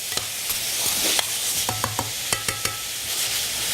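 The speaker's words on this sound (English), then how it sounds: "You always want to have that frying sound present." Loud steady sizzling of meat frying on a pan over high heat, with sharp scraping and clinking from stirring utensils at irregular intervals.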